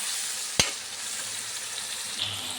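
Onion and chili powder frying in oil for fish curry give a steady, close hiss with one sharp clack of a utensil partway through, and no voices.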